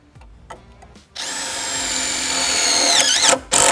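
A power drill drives self-tapping screws into alignment channels set in concrete panels of an outdoor kitchen, its motor whining high and steady for about two seconds, then stuttering as the screw seats, with a short burst after.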